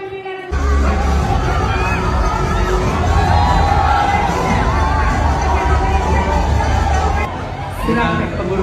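A crowd at an Indonesian Hanura party event cheers, shouts and claps in welcome of the party chairman, a loud, dense roar of voices and applause with music-like tones underneath, dropping slightly near the end.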